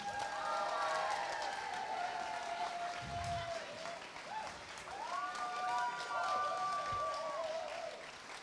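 Applause breaks out from a convention audience at a cosplay contest as a fourth jury member is introduced, a steady broadband patter lasting throughout, with a host's voice and music running over it.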